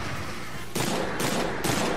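Rapid-fire pellet shots from a Hunter's Rifle in the video game Monster Hunter 3 Ultimate, heard as a loud, close burst of three quick blasts over a steady game background.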